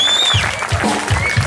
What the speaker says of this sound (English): a big round of applause for the gentleman that's handling the lights and the sound and the stage and everything else